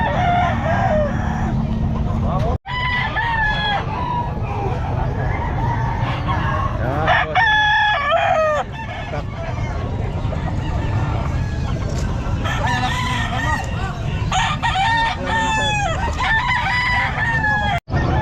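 A Sweater gamefowl rooster crows loudly and repeatedly at a busy pet market, its calls rising above a constant dense crowd and market din.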